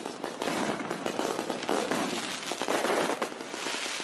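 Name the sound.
Diwali firecrackers bursting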